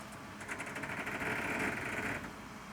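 Mechanical whirring of a bucket truck's turret spinning under strain, a steady buzzy grinding hum that swells in the middle and continues throughout without speech.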